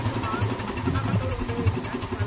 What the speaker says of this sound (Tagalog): Pinetesting, pinapaandar ang bangka